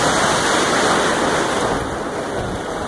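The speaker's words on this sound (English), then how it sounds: "I got some waves right behind me" Ocean surf rolls in at a beach during a surf series, a loud, steady, close wash of breaking waves and water roar with no talking.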